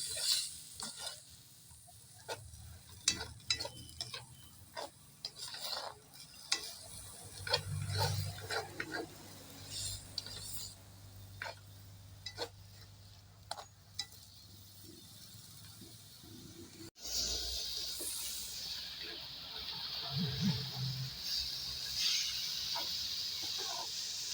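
Mixed vegetables stirred in a pan while making fried rice, with soft scraping and clinking of a utensil against the pan over a low sizzle, irregular strokes, close and fairly quiet.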